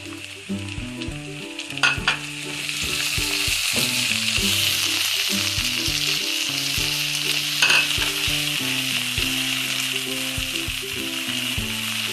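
Finely chopped onions and a piece of ginger fry loudly in a pan, giving a steady, dense sizzle with faint background music underneath.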